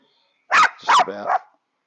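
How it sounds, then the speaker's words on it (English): A dog indoors gives two or three short, sharp barks in quick succession, loud and close, with silence before and after. "You can't bark at them, Sheriff"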